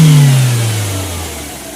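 A Toyota 4A-FE engine in a car with freshly cleaned injectors revs loud and close, its pitch sliding downward as the revs fall off toward idle, with no voices.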